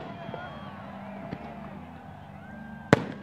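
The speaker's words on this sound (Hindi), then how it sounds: "मीनार पाकिस्तान से आपको आतिशबाजी के मनाजिर दिखा रहे हैं हमारे।" Pakistan Day fireworks at Minar-e-Pakistan in Lahore sound as a sharp distant bang near the end, with faint pops amid crowd noise while a reporter talks throughout.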